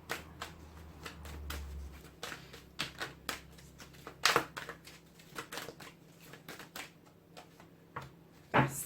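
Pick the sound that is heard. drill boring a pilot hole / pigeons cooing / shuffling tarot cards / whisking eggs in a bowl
shuffling tarot cards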